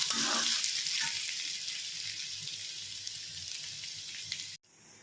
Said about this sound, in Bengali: পাঁচ ফোড়ন আর শুকনো লঙ্কা দিয়ে দিয়েছি